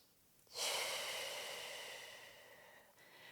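A single deep breath during a pelvic floor stretch, a soft airy exhale that swells quickly, then slowly fades, heard close and alone in a quiet room.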